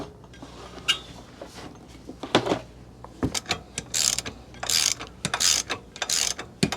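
A ratchet clicks while undoing the wheel bolts on a BMW R series motorbike with a single-sided swing arm, in several quick close bursts of rapid ticking among metallic handling knocks.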